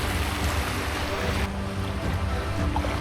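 Water from Shuptadhara waterfall in Sitakunda rushes over rocks in a constant, loud broadband roar with wind noise mixed in.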